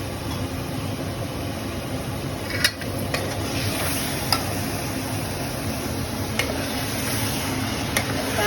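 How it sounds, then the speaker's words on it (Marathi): Steady sizzling as chicken sautés in oil in a pan, a continuous hiss with a few sharp clinks of a utensil stirring, no voices. "चिकन मी तेलातच परतून घेणार आहे दहा मिनिटं"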